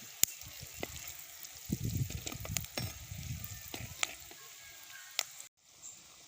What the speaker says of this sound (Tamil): நல்லா கொஞ்சம் நேரம் நல்லா ஃப்ரை ஆகட்டும்.